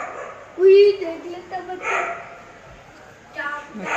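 A dog barks once loudly nearby, followed by a few fainter barks mixed with people talking in the background.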